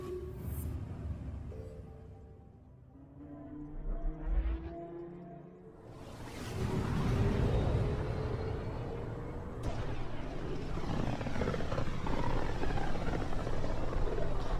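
A spaceship flight transition in Mass Effect Andromeda: a low engine rumble with faint tones, a rising whoosh, then a loud sustained roaring surge that stays dense to the end.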